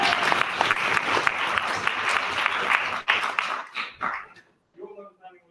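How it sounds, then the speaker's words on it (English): An audience applauds the finalists of a university debating grand final, a dense burst of clapping that fades away after about four seconds, with scattered voices and a brief spoken phrase near the end. "I'd like to give all the finalists a round of applause."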